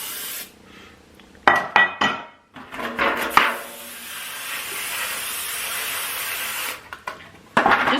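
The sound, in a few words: spraying olive oil cooking spray on pans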